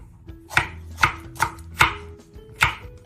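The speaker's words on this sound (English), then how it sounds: "Slice the green peppers into thin strips." A knife slices green peppers into thin strips on a cutting board, five or six crisp, evenly spaced chops ringing out loud and close, with no talking.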